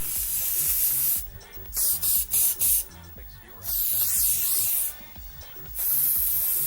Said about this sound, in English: So one more continuous setting mist spray.